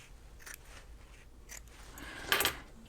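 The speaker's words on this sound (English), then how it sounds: "I want to trim the seams right here like that, just to reduce some of the bulk" Scissors trim fabric seams on a sewn reversible bucket hat, giving a few faint snips and then one louder, crisp cut near the end, close and quiet.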